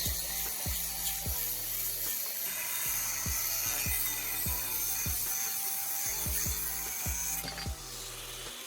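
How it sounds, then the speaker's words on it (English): A saw cuts an angled piece from a metal bar in a workshop, with steady rhythmic strokes, each stroke a sharp rasp, repeating about every half second, fairly close. "Now, I'm marking and cutting another angled piece from the metal bar."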